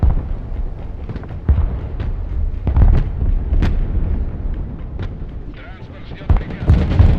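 A tank gun in an online tank battle game fires repeated heavy booms against an enemy's side armor, with loud rumbling blasts under continuous commentary.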